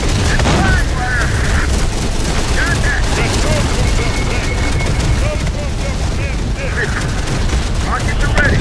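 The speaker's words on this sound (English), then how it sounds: "those guns are still firing on the city" Gunfire and booms roll through a battle over a city in Terminator: Dark Fate - Defiance, with dense, continuous rapid shots and blasts mixed with shouted voices and whistling tones.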